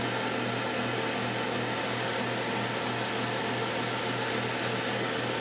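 An air fryer cooking s'mores runs with a steady, even whir and fan rush, constant and moderately loud with no break.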